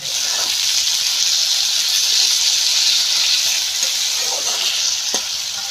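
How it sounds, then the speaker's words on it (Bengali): Spices with turmeric and sugar are stirred and fried in a pan while making veg fried rice, producing a loud, continuous hiss-like sizzle close by, with a few scraping stirs near the end. "এবার আমি ভালো করে নাড়িয়ে কষে নেব"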